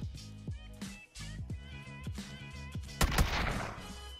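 Double-barrel DBS shotgun in PUBG firing several quick, sharp shots up close, with short gaps between blasts and a denser burst of firing near the end.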